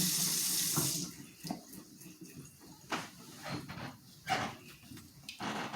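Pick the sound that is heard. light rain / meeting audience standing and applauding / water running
water running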